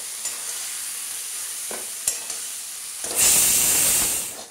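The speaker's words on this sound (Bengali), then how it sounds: "এবার একসাথে দিয়ে মশলার সাথে খুব ভালো করে কষে নেব" Loitta fish and mashed potato with spices fry in a pan, a low simmering hiss that rises into a loud, bright sizzle near the end as stirring continues, with a few clinks.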